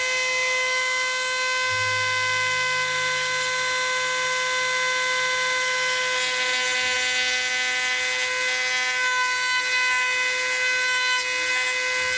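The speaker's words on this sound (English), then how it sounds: "I just heard the horn blow." A single long, steady horn blast drones on without a break, sounding at a moderate distance with no voices.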